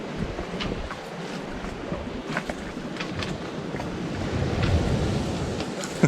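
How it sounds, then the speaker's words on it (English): Big waves breaking on a beach off Carriacou, heard from a sailboat as a continuous roaring wash with wind noise, swelling slightly louder toward the end. "You can see the big waves breaking on the beach."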